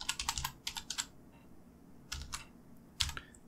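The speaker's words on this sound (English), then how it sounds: "Press Enter on my keyboard." Quick bursts of keystrokes on a computer keyboard, close and crisp, in short uneven runs with brief pauses.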